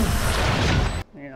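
A grenade blast in the shooter game Valorant, a loud rumbling burst that booms for about a second and then cuts off abruptly, followed by a brief gap and quieter game sounds.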